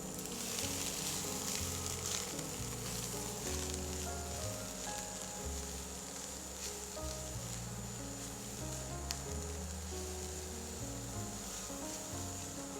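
Red onion cooks in a pan for a vegan coconut sambol, producing a steady close-up sizzle and soft frying crackle over a low tonal background, with no voices.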